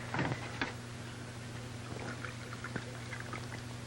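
Water is poured in a 1934 horror mystery film, a short splashing burst near the start, then fades into a low steady hum with faint rustling.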